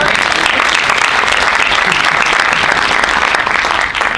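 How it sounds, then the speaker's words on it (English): Loud, sustained applause from a seated audience at a business speaker event, a thick continuous roar of many hands clapping close by, steady throughout with faint crowd murmur beneath. "give him a roaring round of applause"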